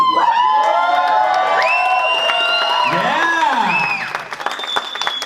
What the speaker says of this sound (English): All I really need you to do is scream as loud as you can, clap as hard as you can